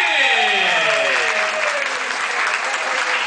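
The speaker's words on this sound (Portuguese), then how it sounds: "E também para Dayana Dantas, os aplausos gente!" Audience applause for a samba de gafieira dancer after her performance: dense, loud clapping continues throughout as the tail of the music fades out underneath in the first second or so.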